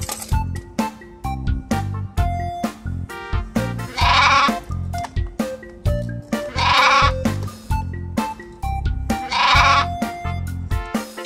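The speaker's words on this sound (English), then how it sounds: "Sheep." Sheep bleat three times at regular intervals over a busy, clinking musical backing, each bleat loud and wavering.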